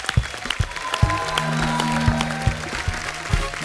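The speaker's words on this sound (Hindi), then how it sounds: "जोरदार तालियां होनी चाहिए।" A studio audience on The Kapil Sharma Show applauds loudly for arriving guests, a continuous roar of clapping with sharp individual claps standing out and a musical tone running beneath.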